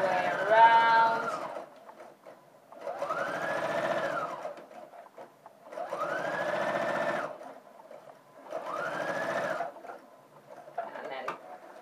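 A sewing machine stay-stitches along the edge of fabric in four separate runs of steady whirring, each lasting a couple of seconds with short pauses between. A voice talks softly underneath.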